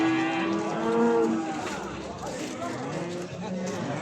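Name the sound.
cattle mooing at a livestock market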